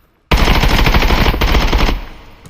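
Video-game 5.56x45 rifle emptying a full magazine in one sustained automatic burst, loud and close, shots blurring into a rapid roar for under two seconds before stopping abruptly.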